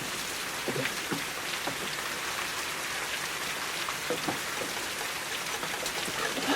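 Rain drums on a roof in a constant, moderately loud wash of drops, with a few sharper nearby taps scattered through, no voices.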